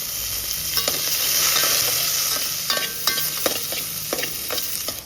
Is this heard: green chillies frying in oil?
yes